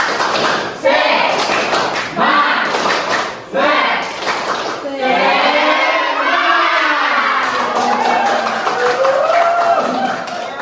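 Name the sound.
group doing the tepuk semangat clapping chant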